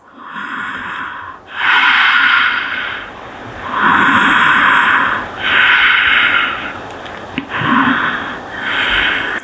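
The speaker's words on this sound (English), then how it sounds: "breathing here through the nose." Slow nasal breathing held in a yoga twist, long loud inhales and exhales alternating in a steady rhythm, close to the microphone with no talking.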